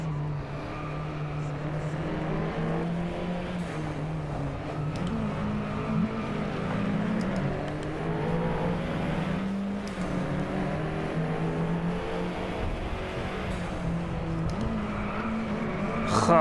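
An Alfa Romeo 4C drifts in the DriveClub VR racing game, its engine droning steadily throughout while the tires squeal and skid at moments, with no speech heard.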